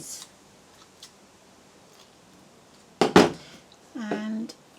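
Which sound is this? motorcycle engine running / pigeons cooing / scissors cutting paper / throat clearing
scissors cutting paper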